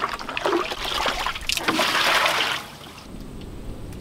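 Rinse water from a laundry washer in an off-grid setup drains with a close, steady trickling and splashing for most of the clip, then subsides to a quieter flow near the end.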